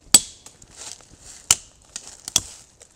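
Swiss surplus hatchet chopping outdoors, three sharp, loud strikes spaced about a second apart, with faint scraping and rustling between blows.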